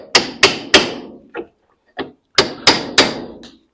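A hammer knocks the bushings off the ends of cheap imported tubular control arms for a 1970 Dodge Challenger: about eight sharp metallic blows, close by, mostly in quick sets of three with a couple of lighter taps between them.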